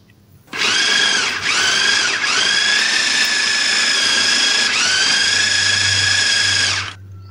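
An electric grinder blends a tofu filling mixture with egg, salt, sugar and stock powder, giving a loud, steady motor whine for about six seconds with a few brief dips in pitch as the load shifts.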